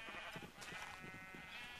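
Sheep bleating in the Minecraft game, a few short repeated bleats close by, overlapping one another over a steady background.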